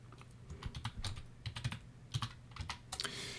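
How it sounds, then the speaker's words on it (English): Rapid typing on a computer keyboard with uneven bursts of close, crisp keystrokes, no voice. "I can type right in."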